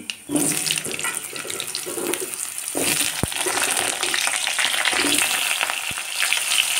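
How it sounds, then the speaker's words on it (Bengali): Potato pieces fry in hot oil with cumin seeds, a steady loud sizzle with crackling spatter running throughout, punctuated by a few sharp clicks of stirring, no voices. "আলুটা লাল লাল করে ভেজে নিই।"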